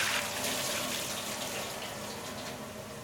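Hot knife blade plunged vertically into warm quenching oil: a steady, fairly faint hiss and sizzle that holds throughout and tapers off slowly.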